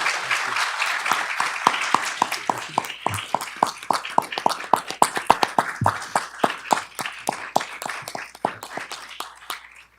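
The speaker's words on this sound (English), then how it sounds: "Can we give a round of applause" Conference audience at a health forum applauds, a sustained crowd of hands with individual sharp claps close by, gradually thinning toward the end.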